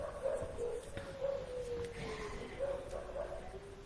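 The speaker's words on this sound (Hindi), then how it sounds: "ये जो कुत्ते बोल रहे हैं ना" Dogs barking and yipping outside in the street at night, distant and fairly faint, with repeated yelps and a thin drawn-out whine running steadily underneath.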